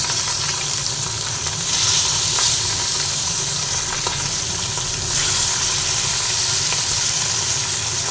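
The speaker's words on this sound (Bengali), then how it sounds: "সবই তেলের মধ্যে দিয়ে দিলাম মাছ বাকি মাছও ভাজা হয়ে গেছে" Fish sizzles and crackles steadily in hot oil, a continuous loud frying hiss with occasional pops and swells.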